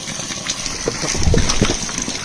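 Spring water gushes and splashes from an outlet inside a small wellhouse at Vorokhta where people collect water, a close, continuous rushing flow with a few louder splashes midway.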